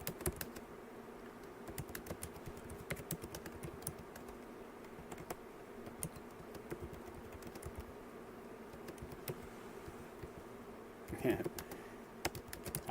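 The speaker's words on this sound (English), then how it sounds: "I'm just typing in some random stuff just to kind of show you how it works." Quiet keyboard typing on a computer, a steady run of soft, rapid key clicks at close range with faint background hum, one slightly louder clatter near the end.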